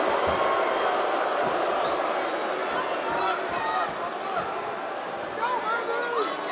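An arena crowd at a UFC fight, Woodley vs Thompson, hums and swells with shouts and whistles around the commentators' talk.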